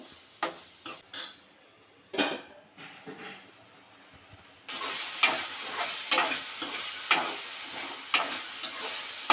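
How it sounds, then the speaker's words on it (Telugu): Ginger garlic paste fries in a pan for a potato curry and is stirred. Scraping stirs repeat, and the sizzle grows louder and denser about halfway through. "అల్లం వెల్లుల్లిపాయ పేస్ట్ పచ్చివాసన పోయేదాకా ఎగనద్దారండి"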